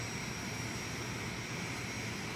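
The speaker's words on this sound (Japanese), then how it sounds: "この音はどうやらエンジンをシャットダウンしたようですね" A steady aircraft engine drone from the VR game Airport Ground Handling Simulator holds at a constant level with a faint high whine, no change or spool-down across the clip, heard alone without talk.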